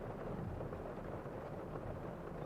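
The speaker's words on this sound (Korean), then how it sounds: "천둥이 치는 여름밤" A thunder sound effect for a summer-night storm gives a dense, continuous low rumble with steady broadband roar, fairly quiet and alone with no voices.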